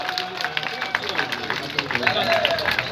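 A rally crowd in Jodhpur claps to welcome Indira ji, a steady patter of many hands beneath a loud amplified voice and surrounding babble.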